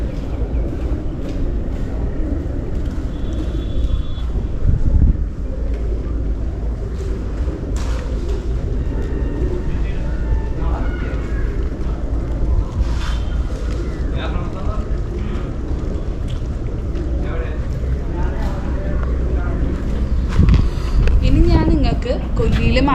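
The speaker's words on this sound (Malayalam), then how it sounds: "നിങ്ങൾക്ക് ഈ വീഡിയോയിൽ നല്ല കാറ്റിൻ്റെ സൗണ്ട് കേൾക്കുന്നുണ്ട്" Strong wind buffets the microphone at a waterside fishing spot in Thrissur, Kerala, at sunset, with a steady low rumble throughout and voices under it.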